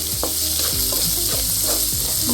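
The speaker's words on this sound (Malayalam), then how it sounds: "ഇതിലേക്ക് നമുക്ക് ചെറിയുള്ളി അരിഞ്ഞത് ഇട്ട് കൊടുക്കാം" Chopped shallots sauté in a pan for a milky mushroom roast, a loud continuous sizzle broken by rhythmic stirring scrapes, close up and without talk.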